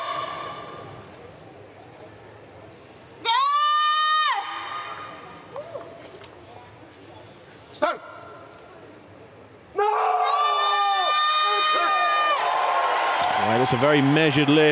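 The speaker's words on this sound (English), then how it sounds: "Roar of approval from the crowd" At a women's up to 55 kg Para powerlifting bronze-medal lift in Paris, a large arena crowd erupts in a loud, sustained roar of cheers after quieter moments, while a commentator talks.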